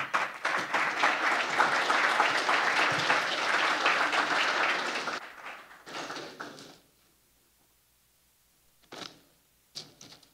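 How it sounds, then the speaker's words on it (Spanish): A conference audience at a regional technical dialogue on prison management claps strongly for about five seconds, then the applause fades, leaving a few isolated claps and near silence. "Recibimos con un fuerte aplauso a don Hugo Espinosa."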